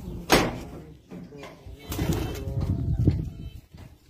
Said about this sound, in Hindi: ये जी न्योरों वाले कबूतर